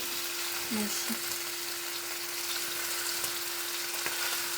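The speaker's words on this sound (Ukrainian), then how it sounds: "Масло розігрілось і викладаю рулетики." Meat rolls laid into hot oil and frying toward a golden crust, a steady, even hiss throughout with a constant background hum and a couple of faint knocks early on.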